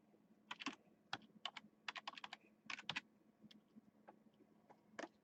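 Bursts of typing on a computer keyboard, quick clusters of clicks separated by short pauses, close and fairly clear over a low steady room hum.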